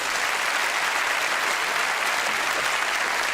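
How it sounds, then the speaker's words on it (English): A studio audience at a television game show claps for contestants, a dense, even wash of applause that stays constant and close throughout, with no voices over it. "A round of applause, Paul and Jill."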